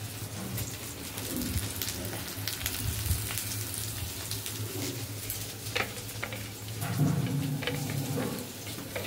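Okra frying in a pan with chopped garlic gives a steady, close, crackling sizzle with irregular spitting pops, and no one speaks over it.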